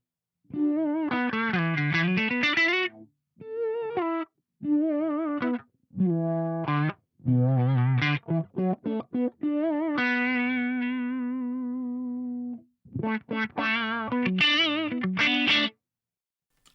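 Electric guitar run through an Axe-Fx III filter modifier, first with a very short attack, then a very long one: melodic phrases with swelling, wavering tones and a long sustained note, loud and effect-heavy, with no voices.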